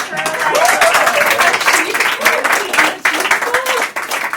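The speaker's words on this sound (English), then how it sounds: "Can we cheer on Adam" An audience claps and cheers at a music industry talk, a dense patter of applause running throughout with whoops and talking voices layered over it.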